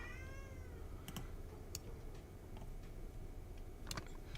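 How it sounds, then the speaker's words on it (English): A faint, short cat meow at the very start, then sparse light clicks and ticks against low background hum. "the cat is just so loud right now"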